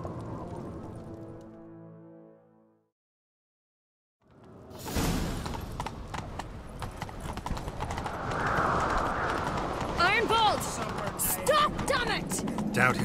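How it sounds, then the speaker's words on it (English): Horses gallop in The Witcher 3: Wild Hunt with rapid, rhythmic clip-clop hoofbeats that start after a brief silence and continue loudly, with whooshing movement and occasional sharp effects. "Grab a horse, we'll chase him down."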